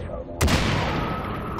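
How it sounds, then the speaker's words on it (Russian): A big blast erupts in the shooter game Far Cry 3 Blood Dragon, a loud boom followed by a sustained rumble and crackle of gunfire and debris trailing off. "Рвануло от души."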